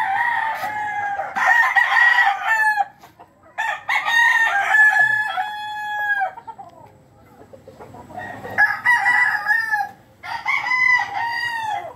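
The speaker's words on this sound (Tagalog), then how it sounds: "Dami nilang manok." A flock of white chickens with roosters, kept at a home in Batangas in the Philippines, crow in several loud, drawn-out cock-a-doodle-doo calls separated by short gaps, with faint clucking underneath.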